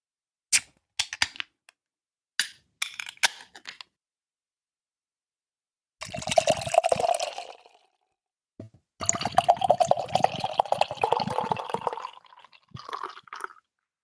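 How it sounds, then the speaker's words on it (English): Hypnocake cinnamon Danish swirl barleywine beer is opened with a few sharp clicks and snaps, then poured into a glass in two longer fizzy, glugging bursts, ending with a short final trickle, close and otherwise quiet. "I will pour it into the glass"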